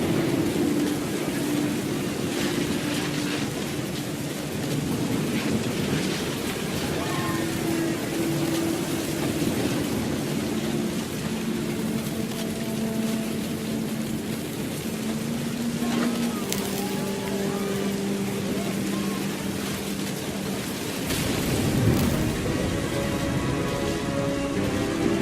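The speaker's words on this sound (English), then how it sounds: "thunder sounded much too close and full of angry power" Steady heavy rain with deep rolling thunder in the video game What Remains of Edith Finch, a dense continuous wash beneath faint tonal music, with louder rumbles swelling partway through.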